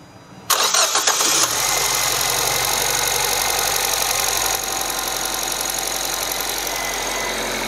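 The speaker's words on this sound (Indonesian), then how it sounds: "Setelah ini kita langsung hidupkan mesin saja Pak Taufik." A used car's engine cranks briefly and fires up, roaring loudly before settling into a steady, busy idle with a faint ticking rattle like a noisy timing chain, close by.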